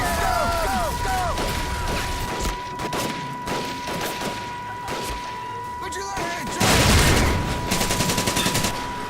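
A mounted gun fires in the 2004 game Medal of Honor Pacific Assault. Scattered shots and impacts are followed by loud, rapid automatic bursts near the end, and someone talks over parts of it.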